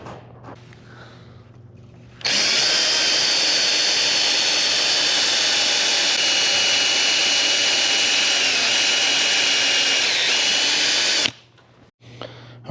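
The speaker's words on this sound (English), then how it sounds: "take your pin nailer and that's to pin it in place while you drill your holes" A loud, steady power drill whirs continuously for about nine seconds while drilling holes in wood, starting and stopping abruptly, with no talking.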